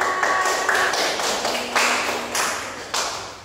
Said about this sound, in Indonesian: Tepuk tangan, silakan.